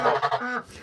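Geese honk loudly and close by in a farmyard near ducks, a burst of several harsh, nasal calls tumbling over one another before trailing off.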